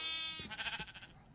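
A single wavering bleat from a Minecraft sheep, close and clear, trailing off after about a second with no talk over it.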